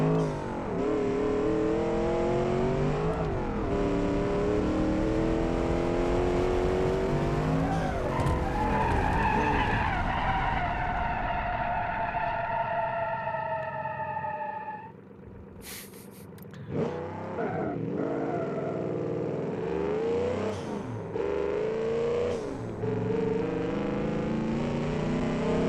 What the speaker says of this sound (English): Making no boost, and this thing is still spinning the tires.